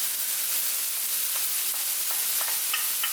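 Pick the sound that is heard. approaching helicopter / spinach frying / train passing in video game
spinach frying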